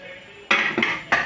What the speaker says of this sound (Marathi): लोखंडाची कढई घेतली आहे इथे